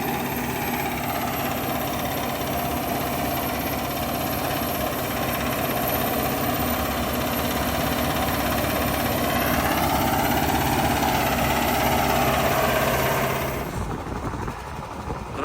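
The engine of a Soviet-era stump collector built on a 1221 tractor with dual wheels on the front and rear axles runs steadily with a loud, rough, vibrating drone, then cuts off abruptly near the end.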